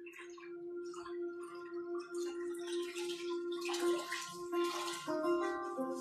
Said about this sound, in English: So I'll show this to you after I give it just a quick rinse.